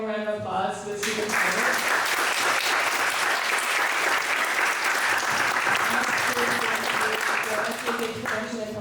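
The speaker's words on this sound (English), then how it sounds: "Can we get one more round of applause for the speakers?" A university student senate candidate debate audience claps for the speakers in a loud, dense round of applause that swells after a brief opening and holds steady, with faint voices mixed in.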